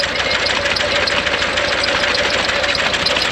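A tractor engine idles steadily on a farm, a continuous close, loud mechanical drone with a fast, even knocking pulse and no talk.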